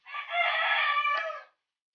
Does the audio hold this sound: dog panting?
no